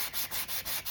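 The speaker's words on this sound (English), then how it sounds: "it's just easier with me right now just to use my sanding block" Wood being sanded by hand with a sanding block, five quick rhythmic rasping strokes back and forth, close and fairly quiet with no talk.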